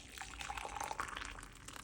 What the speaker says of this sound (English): So I'm just gonna mix some of this with some hot water so that it dissolves easily.